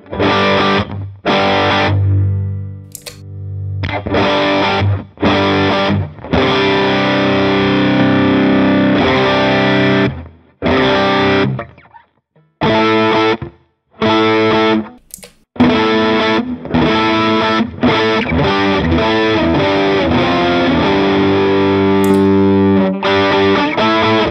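Loud, crunchy distorted electric guitar chords and riffs through a Line 6 Helix amp model with the sag setting raised, chugging in bursts with short pauses, the tone thick and slightly compressed.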